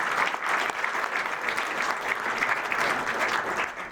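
Audience at the Graal d'Or 2025 awards ceremony breaks into sustained applause, a dense, loud wash of clapping that holds steady for several seconds before starting to thin at the end.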